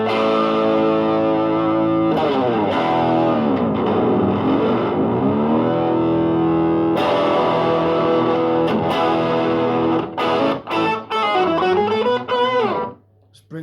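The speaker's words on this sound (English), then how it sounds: "This is a great octaver." Distorted electric guitar run through an Electro-Harmonix Canyon octaver effect plays sustained notes and bends with a low doubled octave beneath. Bursts of choppy strumming come near the end before a sudden stop, with no talk over it.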